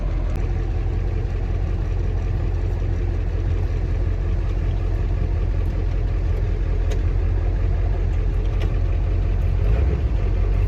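A 1996 Ford F350 dually pickup with a 7.3 Powerstroke diesel runs steadily at idle, a loud, continuous low rumble that holds throughout with no voices.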